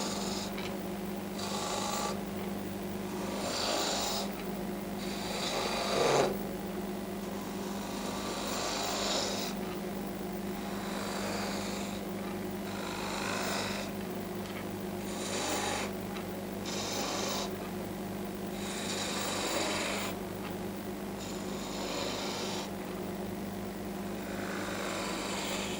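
A gouge cuts coves into a wood spindle turning on a lathe, giving a steady rasping, whirring drone with repeated pulses as the tool goes in and out, close and continuous.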